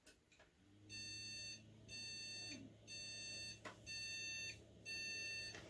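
An electronic error alarm beeps in four evenly spaced bursts of rapid high tones, with a low steady hum running underneath.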